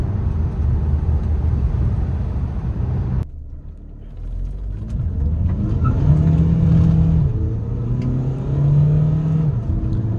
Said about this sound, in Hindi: व्हील स्पिन किया था इस गाड़ी ने अभी